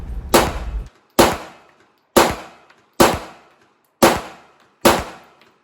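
Six sharp, loud 9mm pistol shots from a Beretta 92FS at a shooting range, spaced roughly a second apart with brief decays between, no talk.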